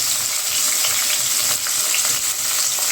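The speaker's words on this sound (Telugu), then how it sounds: "బాగా ఫ్రై చేసుకోవాలి." Tomatoes frying in oil in a pan with cloves, a loud, steady crackling sizzle that runs close and continuous without pause, with no voices over it.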